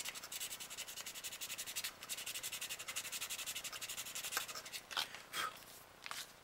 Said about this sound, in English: we're just going to scrub the outside of this tube here at the very end